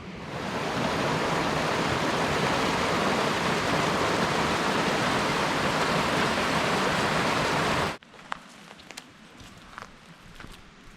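Water in a creek rushes loud and close for about eight seconds as a dense, steady roar, then cuts off abruptly to quiet outdoor ambience with a few faint clicks.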